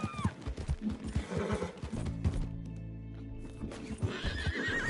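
A horse in the video game Red Dead Redemption 2 gives a loud, drawn-out neigh over the clatter of hooves and other game sounds, with the whinny standing out clearly in the middle.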